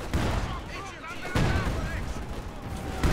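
Artillery barrage in the video game Company of Heroes 2, heard as repeated booming blasts and rumbling explosions layered over sustained battle noise, with a commentator talking over it throughout.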